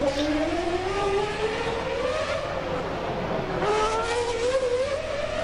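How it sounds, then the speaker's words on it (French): A 2001 Prost Grand Prix Formula 1 car engine during practice, a high-pitched racing engine howling near and loud, pitch climbing steadily, dropping briefly as it shifts or lifts, then rising again. "profiter un petit peu du bruit de la voiture de 2001"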